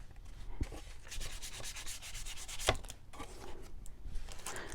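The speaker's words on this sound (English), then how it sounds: "I'm going to take the sandpaper and just sand it a little bit heavier in there." Sandpaper rubbed by hand over painted wood for a distressed nativity piece, a steady run of close, rasping back-and-forth strokes with a couple of sharp knocks in between.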